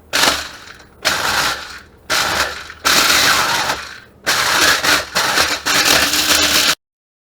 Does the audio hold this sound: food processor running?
yes